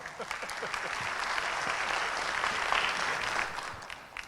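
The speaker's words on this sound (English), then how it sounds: "Round of applause." Audience at a hardware-track technical talk breaking into a round of applause, dense continuous clapping that swells and holds, fairly loud and close, without talk over it.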